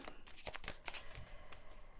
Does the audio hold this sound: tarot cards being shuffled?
yes